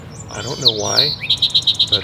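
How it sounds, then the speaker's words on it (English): Birds sing and chirp beside a river on a morning, with a run of about six evenly spaced bright repeated notes toward the end; someone speaks briefly over the birdsong. "There's a lot of birds singing."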